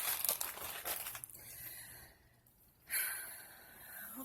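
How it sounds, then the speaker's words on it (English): Plastic packaging crinkling as cross stitch supplies are put away, close and quiet rustling in bursts with a pause in the middle and a short renewed crinkle near the end. "I'm not going to apologize for the crinkling."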